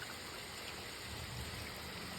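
Steady rain falling, a dense even hiss with a low rumble underneath, continuous throughout with no voices.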